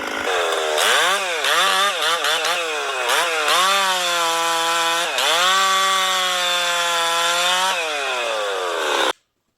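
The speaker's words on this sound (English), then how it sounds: "that's cutting hardwood, maple. And now this saw is only 66 cc's." A 66 cc chainsaw cuts through maple hardwood, its engine screaming loud and close at high revs, pitch sagging and recovering as the chain bites, then cutting off abruptly at the end.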